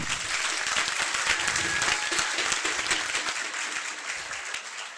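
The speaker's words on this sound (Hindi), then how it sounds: "सभी के लिए एक बार दिल से जोरदार तालियां हो जाए।" Hearty applause from an audience for the staff at a Gurukul opening event, dense and sustained clapping that stays loud and steady for the whole stretch, tapering only slightly toward the end.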